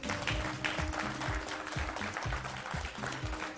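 Audience applause welcomes the first contestant onto the stage at a televised singing competition, a steady wash of clapping that holds throughout at even loudness.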